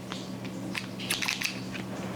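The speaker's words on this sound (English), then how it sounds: "And then snip off the dead part of your plant." Clean scissors snip off the dead part of a houseplant: a few close, crisp cutting clicks, with the sharpest cluster of snips in the middle, in a quiet room.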